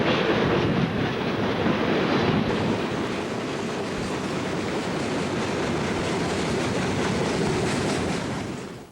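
Freight train with boxcars, liquefied petroleum gas tank cars, grain loads and corn syrup tanks rolling past close by, a continuous loud rumble and wheel clatter with a steady roar, no voices.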